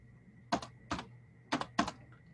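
Four sharp bursts of keys tapped on a computer keyboard, with short pauses between them as numbers are entered, close and fairly clear over a faint steady hum.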